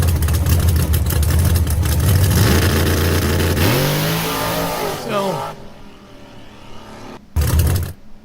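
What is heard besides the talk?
car engine revving hard while accelerating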